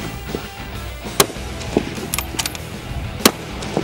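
A Caracal bolt-action rifle fires at an outdoor range in the UAE. Several sharp cracks, two standing out clearly, punch through a steady background of wind and ambient noise, sounding moderately distant.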